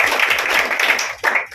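Audience applause welcoming a speaker to the stage at a Ram Mandir Ayodhya themed event, steady dense clapping that stays loud throughout with a brief dip and swell near the end.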